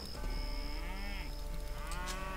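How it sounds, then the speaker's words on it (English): A cow in the video game Age of Empires II gives a single drawn-out moo over steady game ambience, with a faint high tone above it. "Is this really only one cow?"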